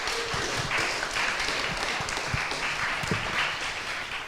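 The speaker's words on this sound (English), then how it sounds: "So let's give him a round of applause." Audience applause for a speaker at a tech talk in San Francisco, a moderate, steady patter of clapping lasting a few seconds with a few sharper individual claps standing out.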